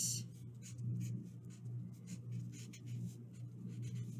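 A pen scratches steadily across the surface of a craft jar while a caption is written, a soft continuous scribbling with a faint low hum underneath and no talking.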